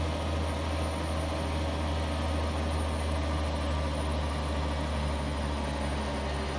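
Simulated heavy truck engine in American Truck Simulator droning steadily while downshifting on a hill, with a constant loud low rumble and no talk.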